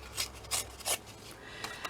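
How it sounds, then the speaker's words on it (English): Fabric from an old pair of trousers torn by hand for a junk journal, a few short ripping bursts with quiet gaps between, close and moderately loud, no talking. "so it's this Poor Fella's Trousers I'm tearing"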